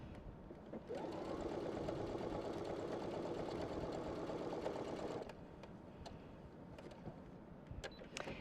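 Brother PS500 sewing machine stitching sample stitches, a steady mechanical whirring hum that runs for about four seconds, then stops and leaves faint clicks and handling noise, close and quiet.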